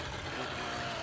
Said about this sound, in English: that motor don't like this or something